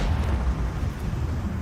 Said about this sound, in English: Let the macro cannons sing their twisted song.